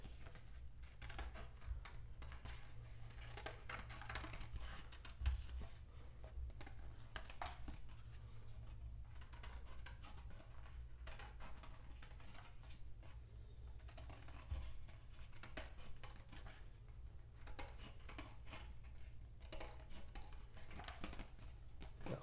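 Scissors make a big rough cut through extra cardboard while shaping a porcupine shadow puppet, giving a steady run of small crisp clicks and snips over a low background hum.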